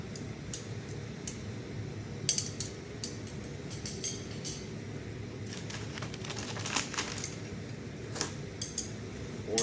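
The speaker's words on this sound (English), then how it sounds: "There's our 1/2 inch fire tongs." Half-inch blacksmith fire tongs of metal clink and tick as they are handled, giving faint, scattered light metallic taps over a quiet background.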